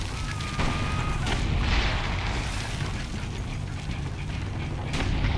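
Dense, rumbling cannon fire in Assassin's Creed Brotherhood rolls on continuously, booming blasts layered over constant low-end noise, with a few sharper bursts standing out.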